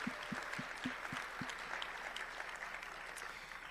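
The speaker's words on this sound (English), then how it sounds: "Yeah, let's clap to that." Audience applause fills the main session hall of a labor union conference at a large hotel, steady dense clapping from a big crowd, fairly distant, with a few sharper claps early on and no speech over it.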